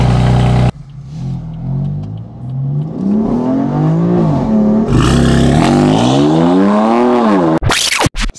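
BMW M4 with a new exhaust and downpipes starts up loud and close, cranking into a roaring catch, then settling into a rising and falling idle with revving surges before cutting off abruptly.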